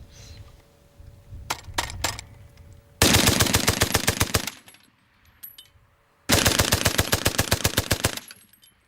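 A water-cooled First World War machine gun fires at about 500 rounds a minute in two sustained, rapid bursts, each over a second long, loud and close, with a few single clanks before and between.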